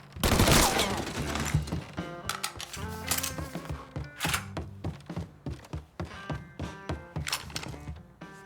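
Gunfire in Mafia III: Definitive Edition on PC opens with a loud, dense burst, then a run of punchy shots and thuds pops out over a busy, tonal game score, with no talking.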